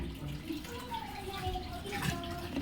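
A Thomson washing machine with a drain fault pushes water out in a steady running, gurgling flow, moderately close, with a person talking over it.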